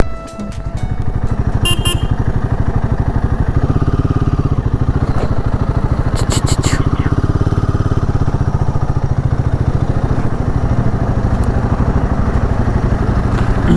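Motorcycle engine on a bike ride from Bangalore to Hampi, a steady close rumbling drone throughout, with a few short horn honks from passing traffic.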